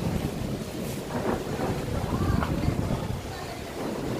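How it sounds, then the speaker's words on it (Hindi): Rain and gusting wind roar over a low rumble of thunder, with a person talking faintly through the storm. "बादल की आवाज़ देख रहे हो आप, गरज रहा है, बरस भी रहा है"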